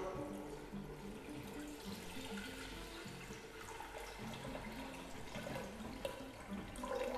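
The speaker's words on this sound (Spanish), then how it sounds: "vertemos agua hasta más o menos la mitad de la franera" Water poured into a pressure cooker around a flan mold holding cheese and honey flan, a continuous faint splashing stream close by with no talk.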